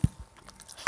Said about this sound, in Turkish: Yine yemeğimden bir ısırık aldım.